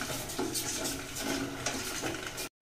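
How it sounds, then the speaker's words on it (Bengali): A spoon stirs sugar syrup with cardamom pods in a pot, giving a steady scraping and clinking with a faint sizzle, close and continuous for a couple of seconds before cutting off. "তারপরে চামচ দিয়ে নেড়ে নেড়ে চিনিটা গলিয়ে নেব।"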